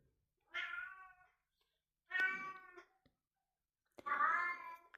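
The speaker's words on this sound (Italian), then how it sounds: "non so se state sentendo la mia gatta che miagola." A cat meows three times, clear and fairly close, with pauses between each drawn-out call, in otherwise quiet surroundings.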